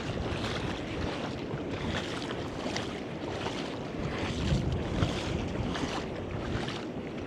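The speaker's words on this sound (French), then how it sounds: "le vent, il fait plein de clapots alors que c'était tout beau" Choppy, wind-whipped water slaps and laps steadily against a hull off São Vicente, Cape Verde, mixed with gusty wind noise buffeting the microphone.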